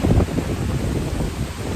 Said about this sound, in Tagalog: Pero guys, masyado po siyang mahangin.